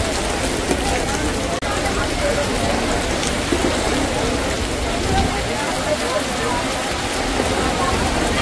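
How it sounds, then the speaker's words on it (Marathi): Heavy rain pours down outside the Sassoon Dock wholesale fish market in Mumbai, a dense, steady hiss of drops that fills the whole stretch with no letup. "आणि बाहेर केवढा पाऊस आलाय."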